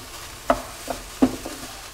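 Chicken mince being stirred in a hot pan, soft sizzling under a few scraping strokes of a utensil, two sharper scrapes standing out, close and fairly quiet.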